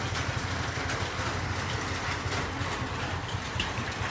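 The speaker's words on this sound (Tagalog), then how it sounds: "Ito po yung ating diesel engine, pelletizer 160 diesel engine type." A diesel-engine pelletizer machine, model 160, runs steadily with a low rumbling drone and a constant mechanical hum, moderately loud and without pauses.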